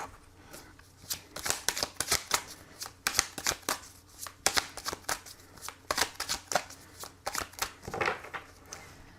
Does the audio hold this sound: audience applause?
no